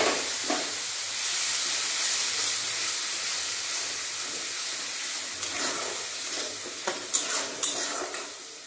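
Soaked spice paste frying with melted tomatoes for fried egg curry, a loud close sizzle and hiss with spatula stirring and a few sharp scrapes and taps against the pan toward the end, no voices.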